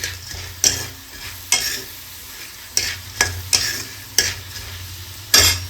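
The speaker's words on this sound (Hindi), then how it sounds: "इसमें डाल दिया मैंने तेल में टमाटर" Tomatoes fry in hot oil with a steady sizzle, punctuated by about seven sharp spatula stirs scraping the pan at irregular intervals, with no talk.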